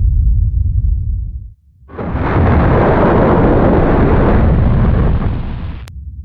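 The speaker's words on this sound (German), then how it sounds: "Darauf folgte in einer zweiten Phase eine phreatomagmatische Explosion von gewaltigen Ausmaßen." A deep rumble gives way after a brief pause to a massive, roaring phreatomagmatic blast of the Thera eruption on Santorini that stays loud and broad for several seconds before cutting off.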